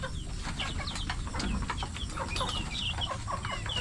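Laying hens cluck on a small farm, giving a busy chorus of short, repeated clucks and squawks from several birds at close range over a steady background murmur.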